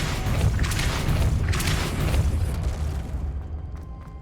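A Depulso force spell is cast in Hogwarts Legacy, producing a loud, sustained rumbling blast with bursts of crackle that fade out over about four seconds, without any voices.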